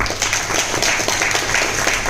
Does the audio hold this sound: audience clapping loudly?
yes